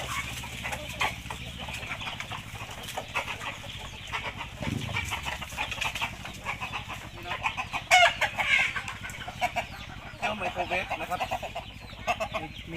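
Several chickens cluck and chatter nearby in a busy barnyard mix at evening feeding time, with a brief rooster-like call partway through and someone speaking intermittently in Thai.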